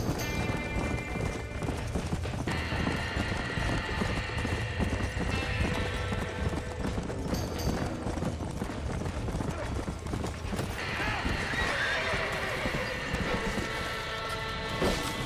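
Horses neigh and their hooves clatter inside a burning barn in the Red Dead Redemption video game, a loud, busy mix of whinnies and hoofbeats under music, with voices talking over it.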